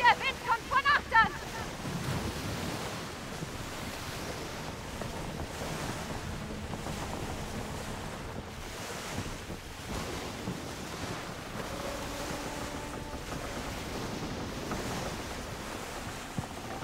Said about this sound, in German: der Wind kommt von achtern.